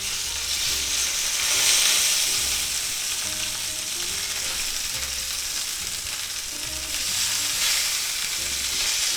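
Frozen boneless pork chops sear in a cast iron skillet, giving a loud, continuous hissing sizzle that swells and eases slightly but never stops, with no voices over it.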